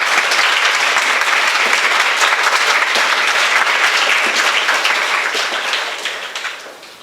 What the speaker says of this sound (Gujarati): જયેશભાઈ મહેતાને તાળીઓથી વધાવીએ